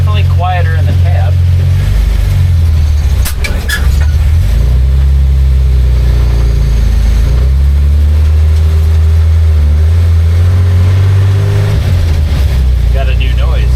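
A 1946 Chevy truck fitted with a bolt-on aftermarket exhaust kit drives along, its loud, steady low engine rumble rising and falling with the throttle and continuing throughout.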